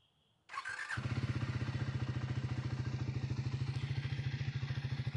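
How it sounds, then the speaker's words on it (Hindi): New Triumph Speed 400 motorcycle starting up close by, a brief starter whirr, then a steady single-cylinder idle with an even, rapid thumping pulse that continues to the end. "अब बाइक ऑन करेंगे हम।"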